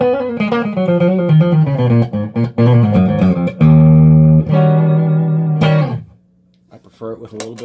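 Clean, dry electric guitar played through an Egnater Tweaker 88 amp with no reverb, loud and close: a run of picked notes, then a long sustained chord that cuts off abruptly, with a few quiet notes afterward.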